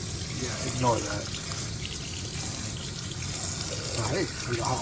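Hot water running from a tap after a water heater repair, a steady splashing flow into a sink with brief voices over it.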